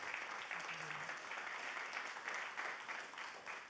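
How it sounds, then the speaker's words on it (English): A live audience applauds at an author talk, a steady wash of dense clapping that fills the whole stretch without letup. "let's give them a round of applause here"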